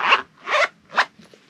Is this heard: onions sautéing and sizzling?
no